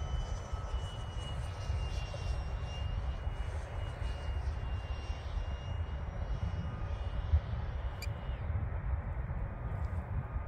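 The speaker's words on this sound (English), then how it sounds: "For being a five blade fan, it sounds pretty good." A Freewing MiG-15 model jet's 64mm five-blade electric ducted fan whines steadily in the distance, a sustained high-pitched tone over a broad rushing drone, faint and continuous.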